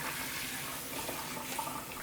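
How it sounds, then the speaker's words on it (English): Cold tap water running steadily over hard-boiled eggs in a kitchen sink, a continuous close hiss and splash with no talking. "we're going to run them under some cold water"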